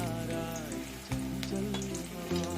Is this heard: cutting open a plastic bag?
no